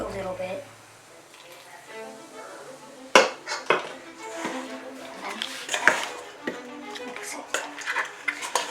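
A spoon works through thick beer bread batter in a bowl, giving intermittent scraping, knocking and clinking against the sides, fairly close and moderate in volume.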